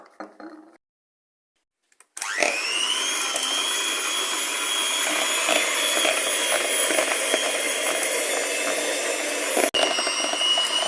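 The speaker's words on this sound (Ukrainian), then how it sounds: "Починаємо збивати сливочне масло спочатку." Electric mixer whipping softened 82% butter for a cream, starting after a short silence with a loud, steady high whine and whirr close by that runs continuously, briefly dipping near the end.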